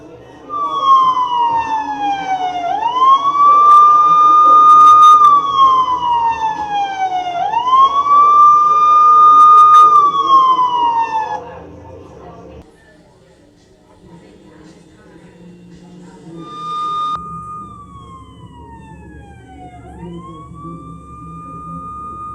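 Emergency vehicle siren played as a headphone ambient-mode demo, loud wailing sweeps rising and falling through repeated cycles, then dropping to a quieter, more distant single wail after a brief lull.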